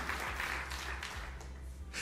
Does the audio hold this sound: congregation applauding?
yes